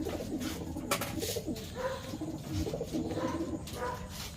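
Racing pigeons coo steadily in a loft during basketing, with overlapping low throaty calls from many birds close by and no talk over them.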